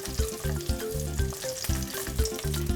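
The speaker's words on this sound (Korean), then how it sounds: "자, 올리브유를 넉넉하게 둘러주세요. 아까 편 썰어놨던 마늘을 넣도록 하겠습니다." Sliced garlic frying in plenty of olive oil, a loud continuous sizzle and crackle close up, with rhythmic stirring clatter throughout.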